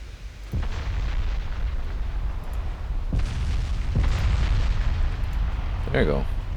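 Naval guns firing and shells striking enemy ships in a 1926-era naval strategy battle, with several dull booming impacts at intervals over a continuous low rumble of battle noise.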